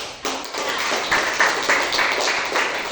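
Students in a madrasah classroom clapping their hands together, a brief burst of steady, fairly close applause-like claps with no talking.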